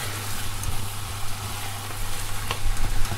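Ground meat sizzles steadily in a hot pan as it browns for a quick meat sauce for pasta, a continuous close crackle with small pops and no talking.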